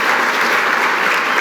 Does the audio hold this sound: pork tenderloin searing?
no